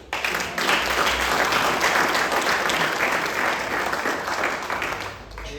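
Audience applause fills the hall after a Kaamelott theatre show in L'Escarène, France: dense, sustained clapping from a large crowd, loud and steady throughout before easing slightly at the end.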